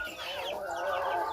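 Free-range chickens on an egg farm cluck and croon in a short, close burst of overlapping bird calls.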